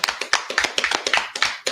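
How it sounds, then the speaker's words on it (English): A small group of people claps in brief, uneven applause, sharp hand claps close by and overlapping in a quick irregular rhythm, with no talk over it. "We applaud y'all."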